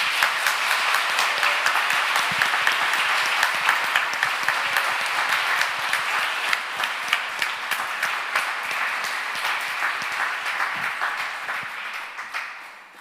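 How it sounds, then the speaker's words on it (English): A teaching and learning conference audience gives the panelists a round of applause, a full roomful of steady clapping that slowly thins and fades out. "please give our panelists a round of applause"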